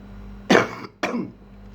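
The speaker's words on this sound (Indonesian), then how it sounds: "Batuk sekadiknya" Two sharp coughs in quick succession from one person, close by, with quiet in between.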